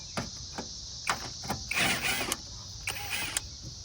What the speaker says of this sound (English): let's start removing the 3 bolts